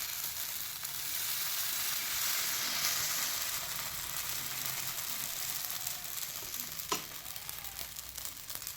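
Ragi bun dosa batter hitting a hot, oiled tawa gives a loud, steady sizzle and crackle that holds throughout without pause, with no talking.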